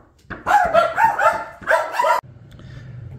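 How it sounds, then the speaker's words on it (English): Several dogs bark loudly after a knock on the door, a close volley of sharp, overlapping barks in two bursts that then stops abruptly, leaving a low hum. "Someone knocked on the door, as you can hear the dogs kind of went a little bit crazy"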